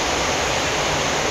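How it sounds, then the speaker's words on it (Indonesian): Heavy rain pours down steadily, a dense, even broadband roar with no pauses and no voices, filling the whole moment at close range. "Udah hujan kuat."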